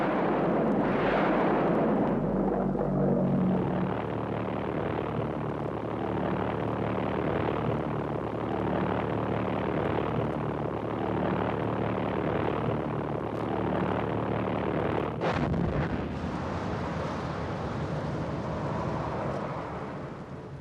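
A V-1 flying bomb over London in 1944, a loud continuous roaring engine drone that ends abruptly in a heavy explosion with a lingering rumble.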